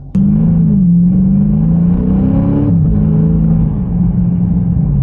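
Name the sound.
2023 Dodge Challenger SRT 392 Scat Pack hard acceleration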